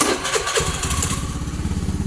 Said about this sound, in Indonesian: Kita coba starter